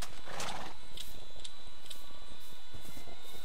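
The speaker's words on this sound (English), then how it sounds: "Yeah, you've got plenty of horses, Rohirrim." Horses of the Rohirrim neighing in the Minecraft LOTR mod video game, a loud whinny followed by steady clip-clopping hooves over a constant game background.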